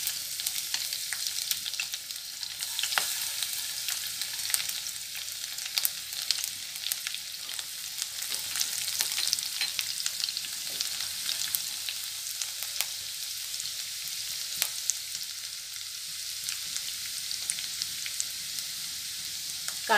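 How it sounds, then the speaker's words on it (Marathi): Green chili and finely chopped garlic frying in hot oil for paneer chilli: a steady, close crackling sizzle with small pops, heard alone without talk. "तेल गरम झालंय, मी हिरवी मिरची घालते, दोन चमचे लसूण घालते बारीक चिरलेला"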